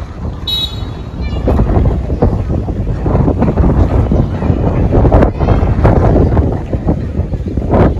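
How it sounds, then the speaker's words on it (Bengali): Strong wind on a rooftop on a rainy day buffets the microphone in a loud, continuous roar with rumbling gusts throughout. "অনেক বাতাস"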